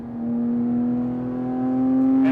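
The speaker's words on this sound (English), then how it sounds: "I'm going to give you guys a little pull to redline" A Porsche 997.2 GT3 RS engine pulls steadily toward redline on a highway, its loud, close, smooth note rising continuously in pitch with no break.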